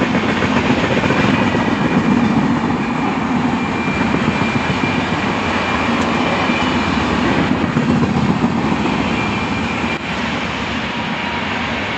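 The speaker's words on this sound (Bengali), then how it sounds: "মেল এক্সপ্রেস ট্রেন বেরিয়ে যাচ্ছে।" A mail express train runs through on the through line beside a platform near Bankura, a loud, close, continuous rumble and roar of wheels and carriages that stays steady for the whole stretch with no voices.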